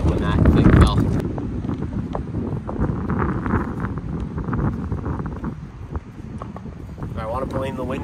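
Wind on a cold winter golf course buffets the microphone in heavy, uneven gusts that are strongest at the start, while someone talks over the rumble throughout.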